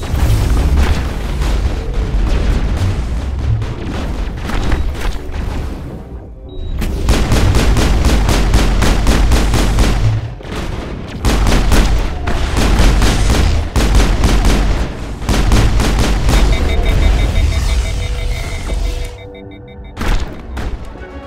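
Sustained heavy gunfire and booming blasts during a video game firefight in a lab, loud and continuous with dense overlapping shots and brief pauses, no talk.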